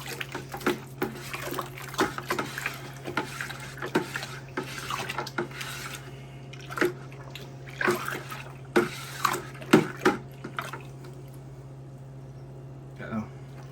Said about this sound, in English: and then we'll stir it all up.